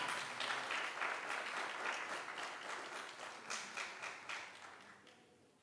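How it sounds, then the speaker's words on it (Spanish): Audience applause at a results presentation for a women's empowerment project, a steady wash of clapping from a crowd that gradually thins and fades over several seconds, with no voices over it. "Fuerte aplauso, por favor."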